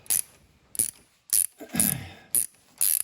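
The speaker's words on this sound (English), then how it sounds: "I'll take this battery cable out. Again, this is 9/16 socket." A 3/8-inch drive ratchet with a 9/16 socket loosens the battery cable on an Oliver 550 tractor, making six short, sharp bursts of clicking pawl strokes up close, with brief pauses and a faint metallic clunk between them.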